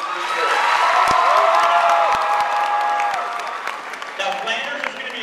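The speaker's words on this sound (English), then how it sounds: "So clap it up for Mr. Allison." A school crowd in a gym at a winter sports assembly bursts into loud applause with cheering and whoops, children shouting over the clapping; the noise stays strong, then eases toward the end.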